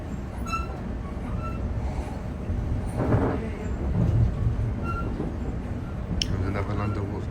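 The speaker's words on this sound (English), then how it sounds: "A London North Western train going past." A London Northwestern train rumbles past on the line toward Crewe, a steady broad roar, fairly close, running the whole time with a brief swell midway and a faint voice underneath.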